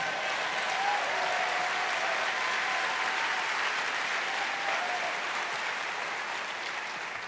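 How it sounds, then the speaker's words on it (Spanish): A church congregation claps for Jesus during a Spanish-language sermon, a sustained, even roar of many hands from a sizable crowd that thins slightly toward the end. "Dale un aplauso a Jesús"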